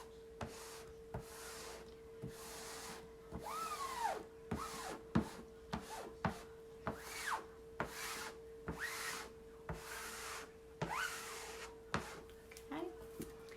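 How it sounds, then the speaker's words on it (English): A squeegee pulled in repeated strokes over a stencil, a soft scraping rub that recurs roughly every second, close and moderately loud, with faint talking in the background. "with the squeegee, you're able to cover a lot of area quickly"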